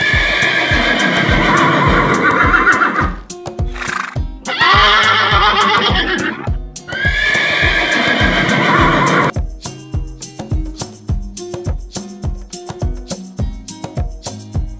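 A horse gives loud, drawn-out neighs in several bursts, followed by rhythmic hoof clip-clops that carry on alone after the whinnying stops.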